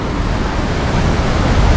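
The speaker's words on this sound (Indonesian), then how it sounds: "Ini lautan lepas." Steady, dense roar of open-sea waves on Indonesia's south coast, a loud, continuous broadband wash with wind buffeting and no voices.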